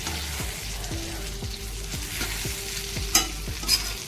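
Stuffed green chillies fry in a pan just after being turned, a constant close sizzle punctuated by a regular series of spatula scrapes and light clinks against the metal.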